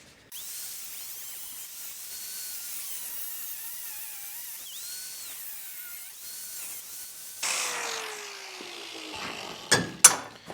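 Angle grinder cutting metal on a Ram 2500 truck, a steady high whine with wavering pitch sustained for several seconds, then a harsher, louder grinding burst and sharp clanks near the end.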